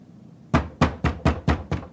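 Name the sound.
thumping on a door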